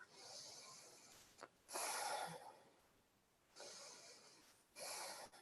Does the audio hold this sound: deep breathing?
yes